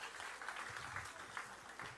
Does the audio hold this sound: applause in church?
yes